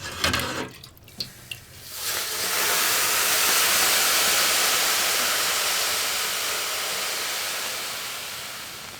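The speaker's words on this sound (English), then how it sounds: "loilu is the act of pouring the water onto the rocks. And it's also the experience of the water becoming steam." Water poured onto hot sauna rocks: a few splashes and crackles, then a loud sustained hiss of steam that slowly fades over several seconds.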